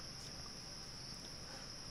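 Quiet crickets in a shop video game, a faint continuous high chirping drone over low background hiss, steady and alone for a brief moment.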